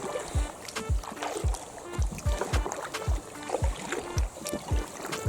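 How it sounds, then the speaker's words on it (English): Oars dip and pull through lake water in a steady rhythm of soft splashes and knocks from a rowing boat, roughly one stroke every half second, close and moderately quiet. "We are rowing up the lake"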